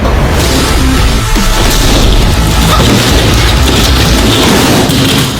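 A house being smashed apart in a video game: loud, dense booming crashes and debris noise rolling continuously for several seconds, with no talking.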